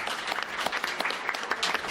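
A steady round of crowd applause, dense and continuous clapping throughout with no talking.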